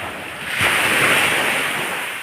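Sea waves washing onto a provincial shoreline, a steady broad surf wash that swells in the middle and stays loud throughout, with some wind noise over the microphone and no talking.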